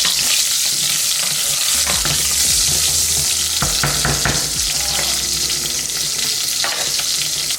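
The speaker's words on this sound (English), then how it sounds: "I'm just gonna let them fry on this beautiful bacon fat" Onions frying in bacon fat in a pan, a loud, close, continuous sizzle and crackle with intermittent scraping and stirring clatter throughout, no voices.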